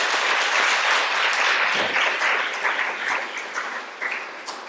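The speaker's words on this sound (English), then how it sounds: "Pastor Danny Jefferson, give him a hand clap." Audience applause at a public schools history makers brunch honoring advocates: a dense, steady clapping from a sizable crowd that holds strong and gradually thins toward the end.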